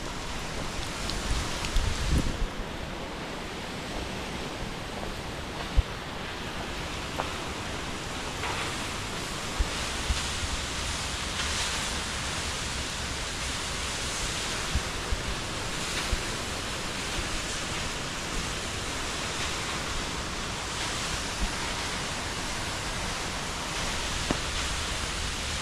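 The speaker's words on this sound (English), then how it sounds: "I hope you enjoyed the waterfall." Waterfall plunging into a canyon at Twin Falls, Idaho, in the Snake River Canyon, a steady full roar of falling water that holds unbroken throughout, with no voices over it.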